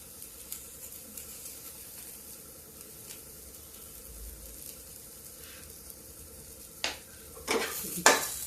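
Chopped tomatoes go into a frying pan for a spinach-fritter tomato chutney, giving a soft, steady sizzle with faint stirring scrapes and a few louder clatters of utensil against pan near the end.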